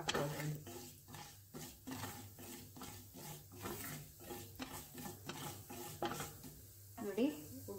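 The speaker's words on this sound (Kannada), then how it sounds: "ನೋಡಿ, ಒಗ್ಗರಣೆ ಆಗ್ತಾ ಇದೆ." Curry leaves and spices tempering in hot coconut oil, a steady close sizzle broken by rhythmic scraping and stirring against the pan, with a brief louder crackle near the end.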